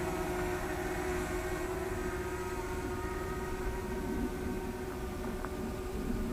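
A DJI Mavic Mini drone holds a steady, buzzing propeller whine as it circles and climbs in spiral mode, moderately loud and continuous.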